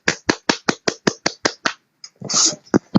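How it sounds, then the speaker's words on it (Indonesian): One person claps about ten times in a steady, even rhythm, each clap sharp and close, followed by a short pause and then a burst of rustling and a couple of knocks. "apresiasi dari saya adalah hanya memberikan sebuah tepuk tangan"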